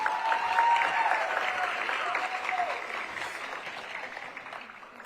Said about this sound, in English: let's hear a round of applause for Kristen